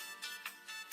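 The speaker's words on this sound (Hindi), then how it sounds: "फोन आ रहा है, अल्लाह खैर करे।" Faint electronic phone ringtone from an incoming call, short repeated chirping bursts at a steady rhythm, alone with no talk.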